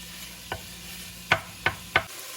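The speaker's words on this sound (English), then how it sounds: "Okay, brown up that Italian sausage. Break it up, brown it up." Hot Italian sausage browning in a soup pot while being broken up with a utensil: four sharp scraping strokes over a faint, steady sizzle, no talking.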